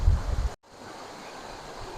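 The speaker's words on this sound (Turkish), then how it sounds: "Sadece dere akıyor gördüğünüz gibi." Water of a stream runs steadily at Uçansu waterfall in Gündoğmuş, Antalya, a continuous broadband rush with a brief gap near the start, with no talking.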